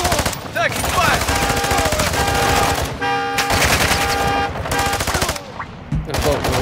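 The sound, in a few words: machine gun fire in a video game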